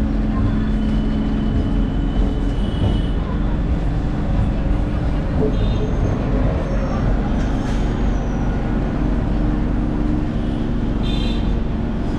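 An MMTS local train on the Lingampalli–Falaknuma service pulls out of the station in Hyderabad, giving a continuous, loud rolling rumble with faint clanks, heard from on board.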